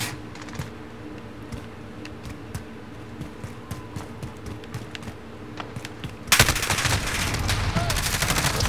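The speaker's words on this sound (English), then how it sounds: "Keep on shooting, keep on shooting." Rapid automatic gunfire in a Call of Duty match rattles in quick bursts against a faint clicking keyboard, then turns into a dense, louder barrage near the end.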